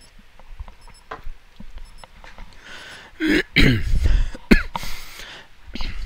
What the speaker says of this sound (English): Sorry if I clear my throat a bit.